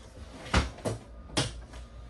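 A kitchen drawer in an Alliance Delta 281BH RV is opened, giving three short, close knocks and slides against a quiet room.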